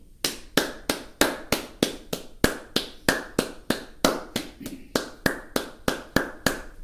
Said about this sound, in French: je vais moi-même me permettre d'applaudir